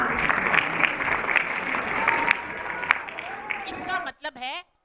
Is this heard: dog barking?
no